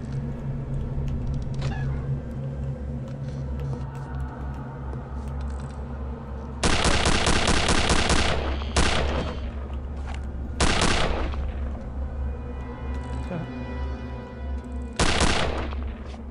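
Automatic gunfire in the video game Return to Castle Wolfenstein rattles in several loud bursts of rapid shots, separated by stretches of low rumbling game ambience.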